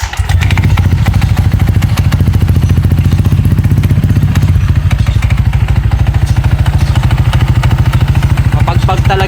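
A Honda Click 160 scooter engine runs steadily and loudly close by, with a rapid low idle thump and a rattling clatter from a worn belt that holds through the whole stretch.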